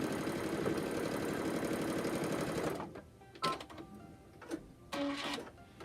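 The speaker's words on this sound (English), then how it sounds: "Flip it over, and I'm going to sew the other side." A sewing machine runs a quarter-inch seam on a fabric handwarmer, whirring steadily and close for about three seconds before stopping, followed by a few short clicks and handling noises.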